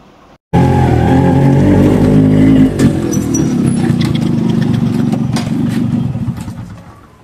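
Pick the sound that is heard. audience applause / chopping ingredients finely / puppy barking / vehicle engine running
vehicle engine running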